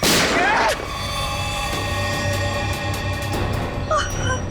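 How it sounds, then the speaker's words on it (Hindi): A single loud gunshot in a CID crime drama, a sharp burst at the start that fades into a sustained ringing tone, with quiet background sound afterward. "लगा, नहीं तो एक और गोली चलाता हूँ मैं।"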